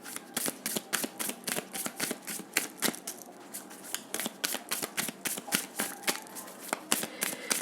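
Tarot cards being shuffled by hand in a steady run of crisp riffling bursts, close and fairly quiet, with no talking.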